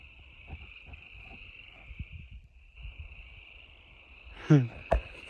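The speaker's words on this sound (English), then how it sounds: "Oh, can you hear them frogs?" A steady high chorus of frogs drones outdoors at a small pond in New Mexico, with a few louder calls near the end.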